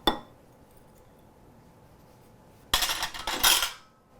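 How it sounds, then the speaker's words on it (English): Dry ingredients whisked in a too-small bowl, starting with one sharp metallic clink, then a quiet pause before a loud, rapid burst of scraping, rattling whisk strokes against the bowl. "this is how I whisk"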